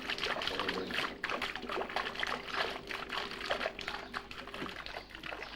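Water trickling and splashing steadily in an Andalusian fountain, a soft continuous burbling flow heard faintly at low level with no talk.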